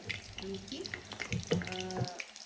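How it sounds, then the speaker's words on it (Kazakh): Soft sizzling and crackling of dough frying in oil, faint and close, with a voice talking quietly over it. "Осылай қызартып қуырып ала бересіздер"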